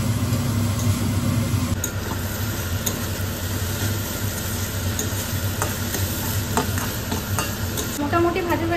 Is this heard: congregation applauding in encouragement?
no